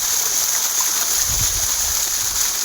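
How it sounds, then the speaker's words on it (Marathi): Water gushes from a farm motor pump into a field channel, a loud, steady rushing and splashing flow that continues unbroken with no voices over it. "बघा किती किती पाणी आणते मोठं"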